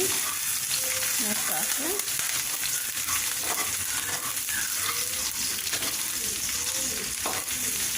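Chopped onions sizzle loudly in a hot pan for a tomato and egg dish while a spoon scrapes and stirs them, with a brief spoken word over the frying.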